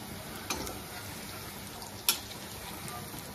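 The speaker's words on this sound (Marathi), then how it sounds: "आता आपण तेल गरम करून घेतलं आहे, त्यात आपण तळायला टाकूया।" Moong dal coriander vadi fry in hot oil with a steady, hissing sizzle. Two sharper crackles pop out clearly above the continuous frying noise.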